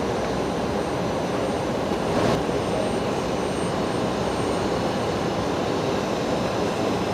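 A BAe 146 jet taxiing at Brisbane airport, its steady broadband engine roar holding at moderate distance with no voices over it.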